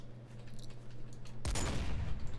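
A sniper rifle shot in the Minecraft video game, a single sudden loud blast with a rumbling tail over a steady background hum, no talk.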